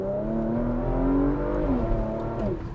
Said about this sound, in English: Yeah, so you get the sport exhaust. This is a fantastic sounding V6.